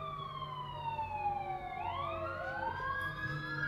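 Emergency vehicle sirens wail with rising and falling overlapping tones over steady road noise, sounding close and loud throughout, as if right outside a home at night.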